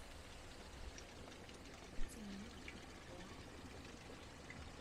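Water runs through a channel into an old stone grain mill in a Hunza village, a steady, soft rushing flow with a faint trickle, continuous and fairly quiet, with no talking.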